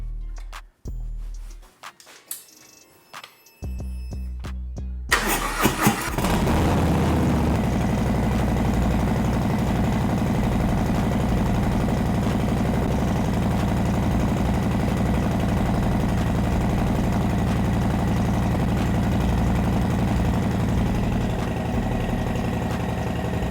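A Harley-Davidson Milwaukee-Eight motorcycle engine cranks and starts after a few quiet handling sounds, then settles into a steady, loud, close idle with a deep throbbing rumble.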